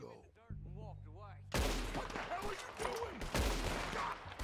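Gunfire in Red Dead Redemption 2, a sharp crack followed by a second burst over a rumbling game soundscape, with voices and effects underneath.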